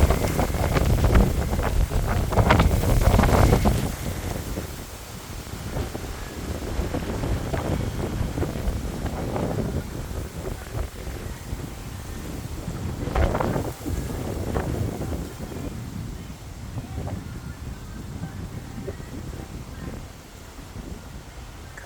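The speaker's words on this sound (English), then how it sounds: "So it's really super windy here today." Strong outdoor wind buffets the microphone in heavy, continuous gusts, loudest at the start and then roaring steadily throughout with no voices.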